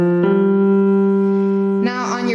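A left-hand chord on a keyboard, fingers resting on C through G in a piano lesson, rings out as a steady sustained tone, then shifts abruptly to a brighter, thicker sound near the end.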